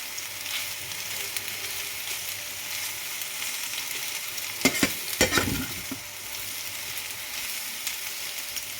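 Boiled pasta being mixed in a hot pan, a constant soft sizzle with a short cluster of spatula scrapes and knocks in the middle, close by and without speech.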